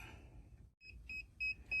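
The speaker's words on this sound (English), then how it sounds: "Timer just went off." A heat press timer for a sublimation tumbler press beeps several times, short clear electronic tones repeating at an even pace, faint and close with no talking.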